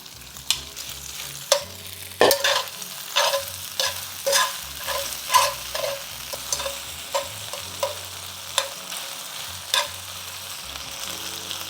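Beef and broccoli stir-frying in a pan, a continuous close sizzle punctuated by regular sharp scrapes and clacks of a utensil tossing the food, roughly one every second.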